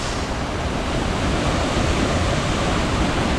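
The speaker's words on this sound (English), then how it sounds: "I am getting very, very wet right now from the mist being thrown off the falls" The waterfall at Rifle Falls State Park roars close and loud, a dense, unbroken rush of falling water with no pauses or voices for the whole stretch.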